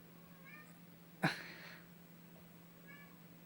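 A cat gives one short, clear meow, fairly close but faint against steady low background hum, with faint chirping sounds before and after it.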